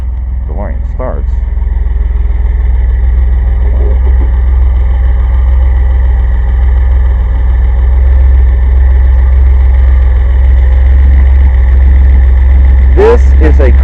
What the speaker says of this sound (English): Isn't it nice when your DeLorean starts?